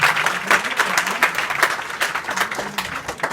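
Dense audience applause from a school assembly crowd, many hands clapping steadily and loudly for a few seconds without voices.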